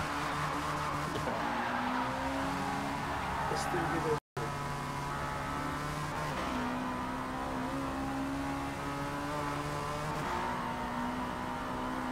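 Race car tires spin and squeal at a rolling start in Forza Motorsport 8, among a field that includes a 678HP K20 CRX, a 700HP Prelude, a 1100HP Demon and a 900HP MK5 Supra. Engines drone steadily under continuous chatter between players.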